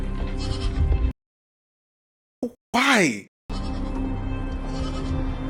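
A goat from a TV show lets out one loud, wavering bleat in the middle, with people talking and reacting before and after it.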